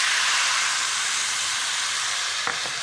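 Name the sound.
port wine bubbling in a hot pan with roast pork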